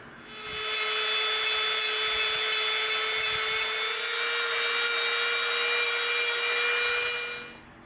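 A handheld Dremel rotary tool fitted with a smoothing bit whines steadily against EVA foam, a high sustained buzz held for several seconds and then stopping, close by with no talking.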